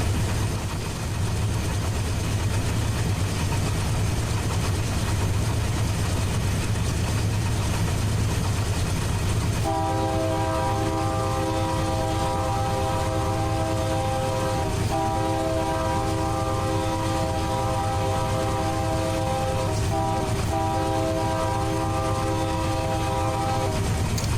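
A BNSF diesel locomotive in the Run 8 Train Simulator game runs on the Fresno to Bakersfield line with a steady, loud engine drone. Partway through, a sustained multi-tone horn blasts in repeated long calls over the rumble.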